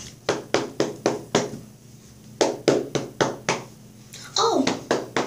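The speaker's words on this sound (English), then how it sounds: "a lot of clapping." Children clapping in unison at a D.A.R.E. graduation, sharp rhythmic claps in short bursts with brief pauses, and a voice breaking in near the end.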